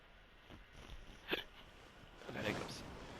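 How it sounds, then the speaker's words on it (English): A single sharp hiccup, faint and close, followed by a softer breathy vocal sound amid quiet background game ambience. "I got hiccups."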